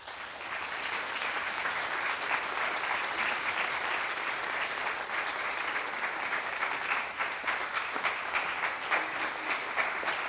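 Sustained applause from a conference audience greeting a panel of four scholars at a discussion on religious liberty, steady and dense throughout with no talking over it.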